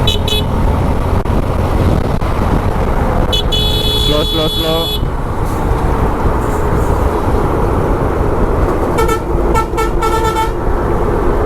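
A passing vehicle on a highway sounds its horn in two bursts during a long drive, over a steady, loud roar of road and engine noise inside the car, with voices talking.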